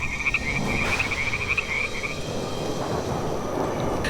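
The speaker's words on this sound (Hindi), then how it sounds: "वहां एक भयंकर तूफान आ जाता है" A steady storm roar with low rumbling thunder, while frogs croak in a continuous trill through the first half.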